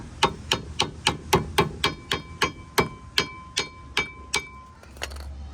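Hammer striking a brake part during a brake job on a 2008-2012 Honda Accord: about fourteen sharp metallic blows at a steady, quick rhythm, close and loud, some leaving a ringing tone, then a brief rattle.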